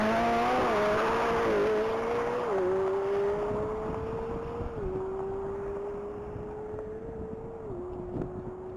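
A 2023 McLaren 720S supercar on a mile top-speed run at a Texas racing event, engine droning loudly and rising through several upshifts, heavy wind rush, the sound gradually fading as the car pulls away.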